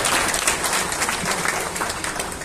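Dense, continuous applause from a seated audience greets Professor Dr. Vivekananda Jha at a B.P. Jayanti ceremony in Dharan, many hands clapping evenly and filling the whole moment without pause.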